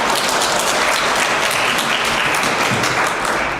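An audience at a Hwadam High School admissions information session breaks into loud, thick, continuous applause that holds at full strength throughout as a science teacher is introduced.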